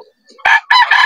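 Roosters crow at a Bocaue pet market, sounding in loud harmonic bursts after a short quiet lead-in, close to the listener.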